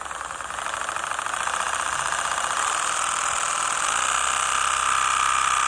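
A Formula 1 engine runs steadily with a loud, dense mechanical whir and rapid knocking texture, continuous throughout with no talk.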